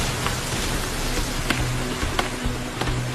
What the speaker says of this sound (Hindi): बारिश नजदीक आ रही है और बिजली भी चमक रही है